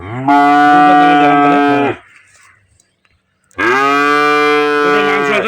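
A seven-month pregnant dairy cow moos twice, each a long, loud, drawn-out low call close by, separated by a pause of near silence.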